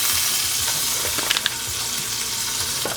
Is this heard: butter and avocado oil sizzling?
yes